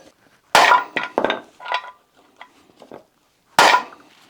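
A press punching out a flange on a Rover 216i car, with sharp metallic clanks and knocks spaced irregularly, a loud bang at the start and another near the end, close by in a quiet workshop.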